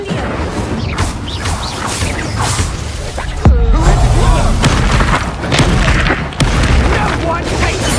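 A fiery Incendio spell from Hogwarts Legacy bursts out amid a loud, chaotic fight, with booming blasts, crashes and whooshing impacts layered over each other, along with shouting voices and dramatic background music.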